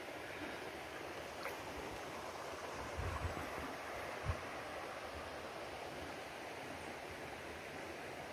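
A river in Jamaica flowing steadily over gravel, a soft continuous wash of water that stays even throughout, with a couple of faint low bumps midway.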